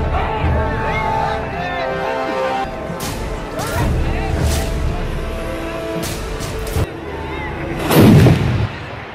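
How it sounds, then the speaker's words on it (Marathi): A traditional cannon fired at a crowded Dussehra festival in Kavathe Ekand, Sangli, with several deep booming blasts over loud crowd noise and a heavy roaring burst near the end. "आज दसरा आहे तर ॲक्च्युली तोफ वाजवली जाते"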